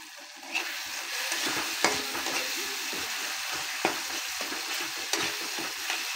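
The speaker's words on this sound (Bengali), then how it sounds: "মশলা থেকে যতক্ষণ না তেল ছাড়ে ততক্ষণ মশলাটা কষিয়ে যেতে হবে।" Masala paste is sautéed in oil for Bengali tel koi fish curry: a loud, continuous close sizzle with regular scraping strokes of a spoon across the pan and occasional sharper knocks, no voices.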